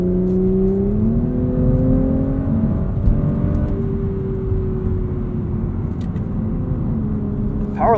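A 2021 Audi S4 driving on the road, heard from inside the cabin as a steady engine drone with rising and falling tones under tire and road noise.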